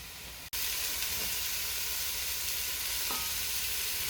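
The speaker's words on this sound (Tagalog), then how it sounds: "igisa na natin ang ating pork. Huwag na tayo maglagay ng mantika. So, ayan, brown lang natin siya ng konti." Pork browning in a dry pan with no oil, giving a steady close sizzle and hiss for most of the clip after a brief quieter start, with a faint stir near the end.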